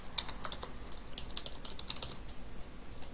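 Quick, close computer keyboard typing taps away in irregular clicks while an email address is entered, fairly soft against a faint room hiss.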